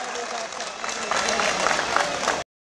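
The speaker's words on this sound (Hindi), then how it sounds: "एक बार जोरदार तालियों के साथ दुर्गेश पाठक जी का" A crowd at a kavi sammelan, a Hindi poetry gathering in Soniya Vihar, applauds loudly and steadily in a dense, close burst of clapping that cuts off sharply after about two and a half seconds.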